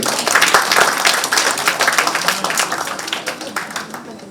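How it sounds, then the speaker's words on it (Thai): Audience applause at a Bangkok event for small restaurant business owners, a lively crowd clapping continuously with distinct quick claps, fairly loud and close, fading slightly toward the end. "เสียงปรบมือต้องมาแล้วครับแบบนี้"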